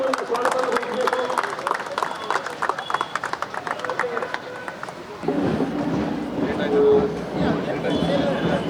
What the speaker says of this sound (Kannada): ಅವರಿಗೆ ಎಲ್ಲರ ಪರವಾಗಿ ಗೌರವವಾಗಿ ಚಪ್ಪಾಳೆ ಮೂಲಕ